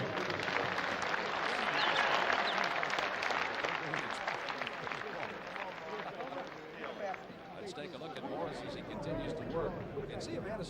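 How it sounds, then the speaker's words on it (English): Crowd applause ringing out at a boxing match before the final round, a broad dense clapping wash that stays steady for the whole span while commentators keep talking over it. "Let's give a vote of the round of applause."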